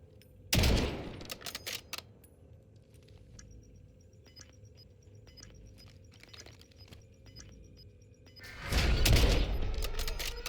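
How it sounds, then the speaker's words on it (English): HDR sniper rifle firing in the Warzone video game, two loud booming shots at the start and end with a sharp crack and rumbling tail, separated by quieter game ambience and faint clicks. "Lovely shot. This is the HDR sniper rifle."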